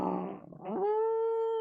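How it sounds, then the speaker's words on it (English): Creatures howl and bay at the moon, heard as a single canine-like howl that wavers, dips, then rises into a long sustained tone, faint and distant. "just a variety of creatures just howling maddeningly at the moon"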